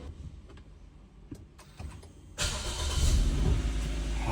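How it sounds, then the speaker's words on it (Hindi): A car that sat all day with its lights left on, battery drained, is started: a few faint clicks and ticks from the ignition, then the engine catches at once and settles into a loud, steady idle. "गाड़ी स्टार्ट हो गई."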